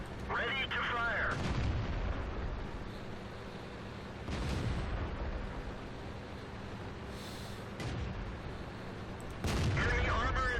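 Tank cannon shots boom in a World of Tanks game, several heavy blasts spaced seconds apart over a constant engine rumble, with a voice talking briefly at the start and end.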